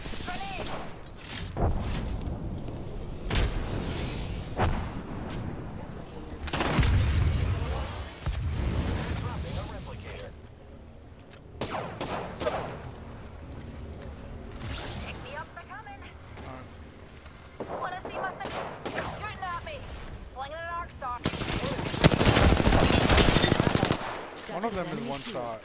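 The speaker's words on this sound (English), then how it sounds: "Grenade deployed." Video game firefight from Apex Legends with a grenade blast and gunfire: dense, continuous shooting and bursts layered under game voice lines and a player calling out, loud throughout with a heavier surge near the end.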